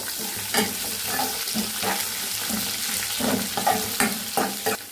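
Hot oil sizzles and crackles steadily as a tempering with curry leaves fries, while a utensil stirs and scrapes the pan at intervals, close up, with no one speaking.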